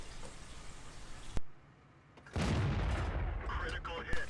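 A single sharp gunshot cracks out while hunting, followed after a short quiet gap by a loud, sustained rushing roar with faint clicks near the end.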